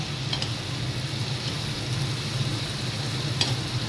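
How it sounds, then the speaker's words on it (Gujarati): Tomatoes stirred into a sizzling onion mixture in a pan for a kaju gathiya curry, with a steady fry and occasional spoon scrapes close by. "એને બધું મિક્સ કરી દઈએ સરસ રીતે."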